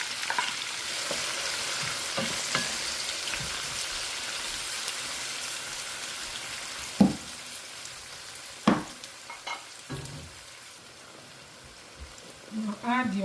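Onions fry in oil in a pan for breakfast eggs, with a soft continuous crackle and sizzle punctuated by a few sharp clinks and scrapes of a utensil, mostly quiet and close.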